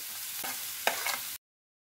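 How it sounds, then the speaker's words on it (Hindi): Grated carrot, capsicum and tomato fry in a pan with salt and turmeric, a soft steady sizzle broken by a few scraping stirs before the sound cuts off abruptly. "2 मिनट तक अच्छे से सब्जियों को पका लेंगे।"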